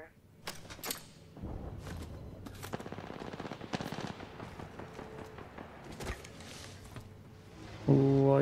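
Gunfire in the video game Apex Legends: bursts of rapid automatic shots and single cracks spread across the moment at moderate loudness, with a louder burst near the end.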